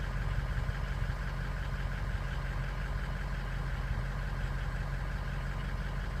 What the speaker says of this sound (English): You can see the engine is capable of running even.